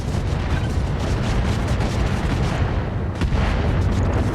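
Missile impacts against a mech in Roguetech, a dense continuous rumble of blasts and crackling explosions that holds loud throughout with a short dip near the end, with no talk.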